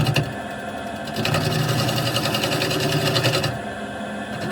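Wood lathe spinning an ash salad bowl blank while a 5/8 bowl gouge cuts epoxy, a steady whirring drone with dense rhythmic chatter that grows louder and busier mid-clip, then eases back.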